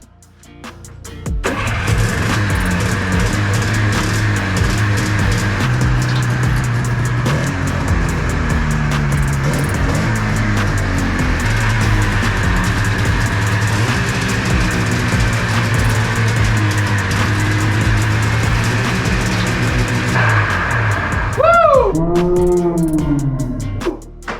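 A Yamaha Phazer snowmobile left sitting outside for ten years runs on only two cylinders, holding a loud, steady, slightly uneven idle for about twenty seconds before a short rev near the end.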